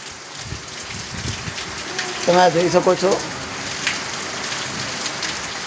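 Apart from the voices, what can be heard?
rain falling in a village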